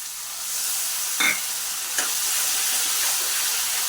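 A spice paste seasoned with black pepper powder stir-fries in a pan, giving a continuous hissing sizzle broken by a couple of short spatula scrapes.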